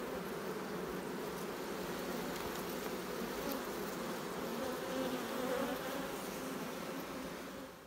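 Honeybees buzz in a dense, continuous drone around an open hive during an inspection, a steady hum with no voices.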